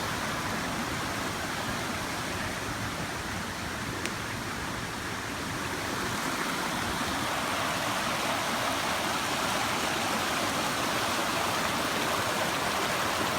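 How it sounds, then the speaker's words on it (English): A small creek rushes steadily downhill, a constant broadband wash of flowing water, close and fairly loud, with no voices. "Got this little creek running down the hill."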